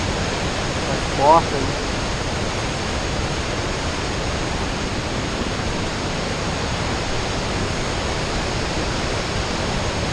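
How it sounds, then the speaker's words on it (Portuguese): The Cachoeira da Fumaça waterfall in Minas Gerais roars as a loud, continuous broadband rush of falling water, close and steady, with a brief voice speaking over it early on. "o que você tá achando dessa cachoeira aqui que a gente tá indo"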